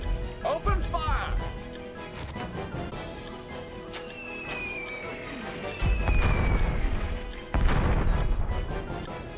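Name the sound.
artillery firing in Warhammer: Dark Omen video game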